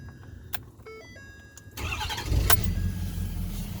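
A lifted 2012 Ford F250 Lariat with a 6.7 Powerstroke diesel cranks briefly and catches, then settles into a loud, steady rumbling idle close by, with a few clicks before the start.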